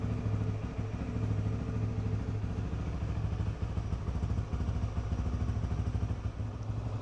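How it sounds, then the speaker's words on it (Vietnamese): A Honda Winner X V3 motorcycle engine idles steadily at close range, a continuous low, even putter with a slight mechanical clatter and no talking. "Sẽ để máy nổ khoảng 3 phút nha."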